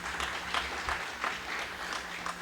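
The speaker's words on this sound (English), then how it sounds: "So let us give a round of applause for the Red Cross" A rhythm of scattered hand claps rises from an audience applauding the Red Cross at an emergency exercise evaluation, steady and fairly faint, like a room-sized crowd.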